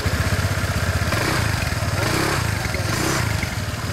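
A Honda PCX125 scooter engine runs nearby at a steady idle, a loud, close, even putter with a faint clatter and no break throughout.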